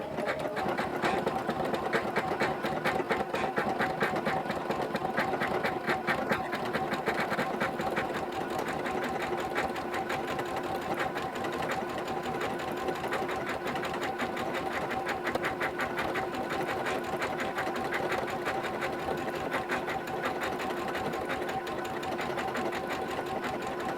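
A computerized sewing machine stitches lettering into fabric with a continuous, fast mechanical whir and rapid needle ticking, steady and moderately quiet for the whole stretch.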